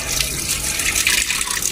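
Water pours steadily over boiled food in a village kitchen to cool it, making a close, continuous splashing rush with no talk.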